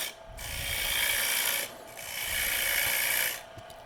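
A bowl gouge push-cuts a wooden bowl spinning on a lathe, two long loud bursts of rough scraping with a brief pause between them, close and steady with no talk.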